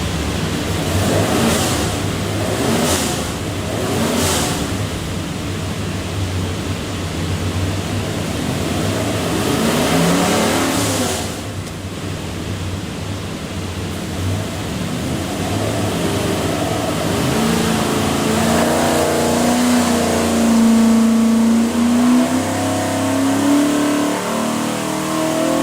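A 427 Ford V8 in a GT40 runs on a dyno and revs up in one long sustained pull. The roar is loud and steady, with the pitch climbing toward the end of the run.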